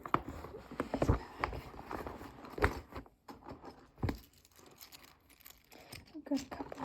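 A bag is handled up close with soft rustling, patting and crinkling bursts in uneven bursts, broken by brief pauses, while a voice speaks quietly over it.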